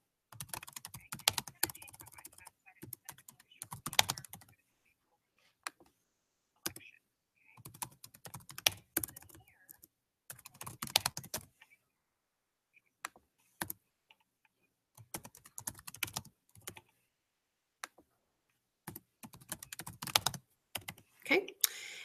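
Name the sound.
typing on a computer keyboard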